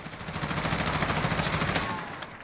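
The Ronin LVOA-C carbine fires in Call of Duty Modern Warfare as a rapid, loud automatic burst of evenly spaced shots that lasts about two seconds, then cuts off with a final crack.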